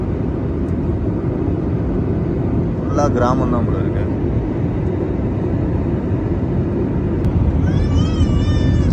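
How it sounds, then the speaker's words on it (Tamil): Steady broadband roar of an IndiGo airliner cabin as the flight descends toward Shirdi, continuous and loud throughout, with people talking briefly over it. "இறங்க போகுது ஃப்ளைட்டு"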